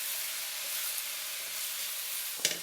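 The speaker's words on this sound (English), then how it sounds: "We take the tomatoes and add them to the pan." Tomatoes hitting a hot pan of softened onions, giving a steady, close sizzle and hiss that holds even throughout, with a brief clatter near the end as the food is stirred.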